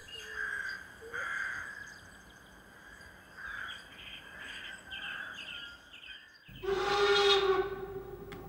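A steam locomotive whistle on a German unified locomotive, its elongated shape giving a fairly low tone. The whistle blasts loudly near the end, after quieter tonal calls and background noise.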